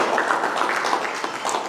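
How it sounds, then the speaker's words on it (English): A congregation at a Sunday contemporary church service claps steadily together, a dense, continuous round of applause with no talking over it. "let's give a round of applause"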